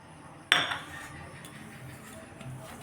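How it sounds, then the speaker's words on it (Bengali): A single sharp metallic clink of a lid lifted off a pot, close and brief, then a quiet kitchen background. "ঢাকনাটা উঠিয়ে নিচ্ছি।"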